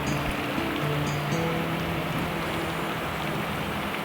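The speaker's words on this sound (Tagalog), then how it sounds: "Umuulan." Steady, dense rainfall hiss filling the whole clip, constant and fairly loud, with a faint low hum underneath.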